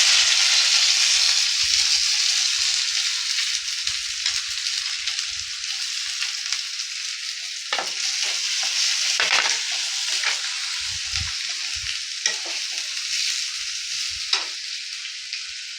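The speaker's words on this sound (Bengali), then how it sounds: "এদিকে পেঁয়াজটা ভাজা হচ্ছে" Steady sizzling of onions frying in a pan, broad crackling hiss throughout with occasional sharper pops and a few stirring scrapes.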